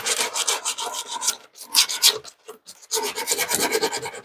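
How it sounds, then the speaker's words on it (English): A wing body panel for a widebody Toyota Supra is sanded by hand in quick, loud rasping strokes, with a short pause midway before the rhythmic scraping resumes. "So now I'm just going to sand this wing so you can see what it looks like when it's done."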